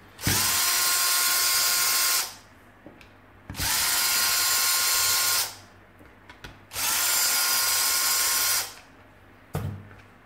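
Screws are backed out of a Parkside hammer drill's casing with a power driver in three loud, close bursts of about two to three seconds each, with short pauses and clicks between them.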